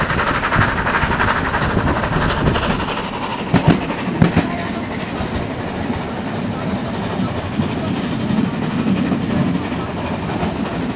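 The Brockenbahn train on the Schierke-Brocken line in the Harz mountains rumbles past close by, with a continuous rolling roar and a cluster of sharp rail clacks partway through.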